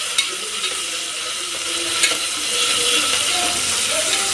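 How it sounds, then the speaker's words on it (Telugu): Onions and tomatoes fry in a pan for a stuffed brinjal curry, with a steady close sizzle and a few scraping, clicking stirs of a spoon against the metal, and no talking. "బాగా బ్రౌన్ కలర్లో వచ్చే వరకు వేయించుకోవాలి"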